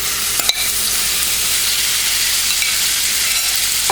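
Chicken pieces frying in sesame oil in a pan for chicken fried rice, a steady loud sizzle with a brief stirring clatter near the start, no voices.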